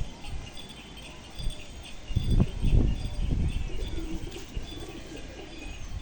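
Female pigeons cooing, low soft throaty coos bunching together in the middle of the stretch, heard fairly near over a quiet background hum with faint rustling.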